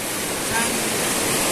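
Steady rushing water of a river in Calima, Pola, Oriental Mindoro, a broad constant wash with no breaks, close and fairly loud throughout.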